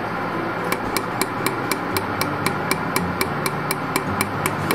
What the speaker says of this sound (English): basically you just hit the foot pedal and just start tacking away